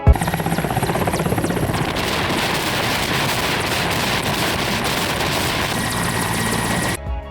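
Loud, close helicopter flying near a mountain glacier, rotor chopping rapidly and continuously with a heavy turbine whine throughout, no voices.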